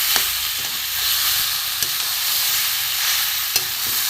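Washed mung dal and spices sizzle and fry in a pan, a continuous loud hissing sizzle with a few faint clicks of a spoon stirring now and then.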